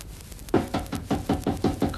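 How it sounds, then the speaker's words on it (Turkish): Sharp knocks on a door start after a short quiet gap, about seven loud raps in a steady, fairly quick rhythm, close and clear with no talking. "Kapı çalıyor."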